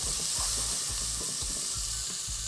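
Diced onion sizzles in hot oil in a pot for a boiled chickpea channa dish, a continuous close frying hiss with soft intermittent stirring knocks underneath.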